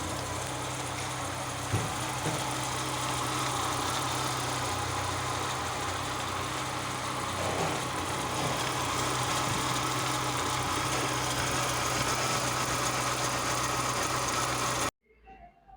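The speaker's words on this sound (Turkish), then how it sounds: "Zincir sesi tertemiz." A Lada Niva engine idles steadily after a timing chain replacement, a constant mid-pitched running hum with light mechanical ticking that stays even for the whole stretch and then cuts off abruptly near the end.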